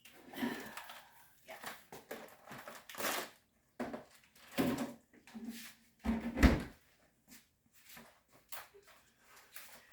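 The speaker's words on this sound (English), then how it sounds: "I get some lunch meat. I think I have one that's already open." Package of roast beef lunch meat being pulled out and opened in a kitchen: soft plastic crinkling and a few dull drawer or door thumps, intermittent and close, with a person talking throughout.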